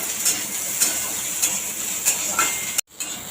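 Onions fry in oil with cumin in a pan for a chikni greens dish, a steady soft sizzle broken by a few faint stirring clicks, with no one talking.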